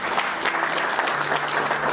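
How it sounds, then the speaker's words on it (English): Audience at an ETF listing ceremony applauding the Morgan & Co team, a short burst of steady, close clapping with a faint voice underneath. "This deserves a huge round of applause for the team at Morgan Company there."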